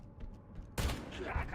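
A Halo weapon fired right after reloading in Halo: Campaign Evolved, a sudden loud burst that cuts in after a quiet moment and rattles on briefly, with talking nearby.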